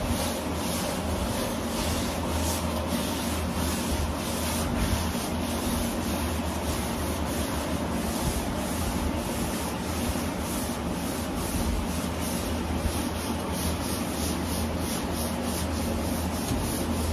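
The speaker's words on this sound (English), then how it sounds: "here we go, block sanding." Continuous rasping of a sanding block worked over 2K urethane primer on the body of a 1985 Jeep CJ7, a steady, close, scratchy rubbing with a faint rhythmic back-and-forth pulse and no talking.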